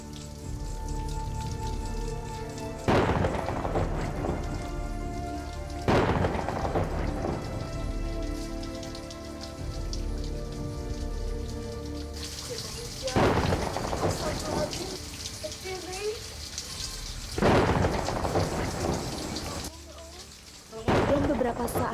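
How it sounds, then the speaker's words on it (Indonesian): Heavy rain pours steadily over a house yard in Papua, broken by several loud rolling thunder claps every few seconds that swell and fade over the constant downpour. "halaman rumah yang masih diguyur hujan deras"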